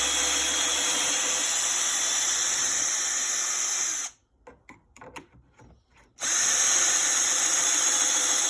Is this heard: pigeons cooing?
no